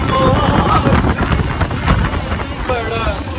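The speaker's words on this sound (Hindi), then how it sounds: "हवा चल रहा है" Strong wind blows at Puri beach by the ocean, buffeting the microphone in a loud, constant rumble with surf beneath, while people talk in Hindi throughout.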